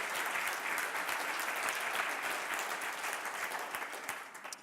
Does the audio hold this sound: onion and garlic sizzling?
no